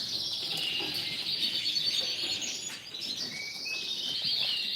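Gloster canaries chirping and trilling continuously, a bright, dense stream of high song close by with no talking.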